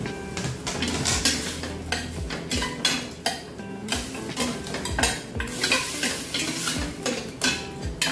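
Beef goes into a pot with star anise for Filipino beef pares, followed by continuous metal-on-metal stirring and scraping over a low sizzle, with repeated clanks of a utensil against the pot, close up and with no talking.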